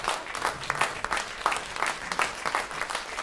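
Clapping from a concert audience at an independence-day recital, a short burst of continuous, fairly close applause with individual claps standing out, no voices.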